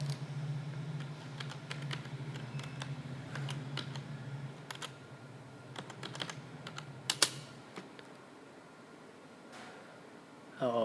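A password typed on a computer keyboard for a Raspberry Pi 4 login, rapid light key clicks in bursts over a low hum, then a pause and a louder final tap.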